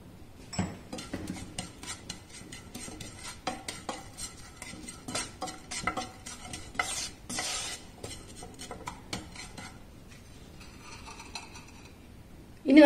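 Chili powder and turmeric fry over a low flame while a spoon scrapes and taps against the pan again and again, with faint sizzling underneath, quiet and close, and no one talking.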